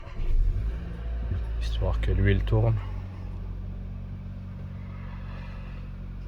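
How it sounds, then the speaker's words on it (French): A 2021 Seat Tarraco with a 1.5 TSI engine starts with a brief loud crank and catch, then settles into a low, steady idle while someone talks nearby. "Donc ici je vais démarrer la voiture"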